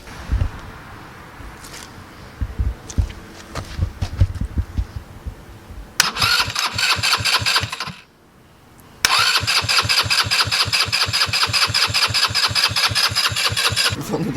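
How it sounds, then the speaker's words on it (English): A hotwired go-kart engine that had sat unused for five years cranks in rough bursts, catches and revs steadily, cuts out briefly, then restarts and runs at a fast, even idle, loud and close. "just going to hotwire it and try to start it"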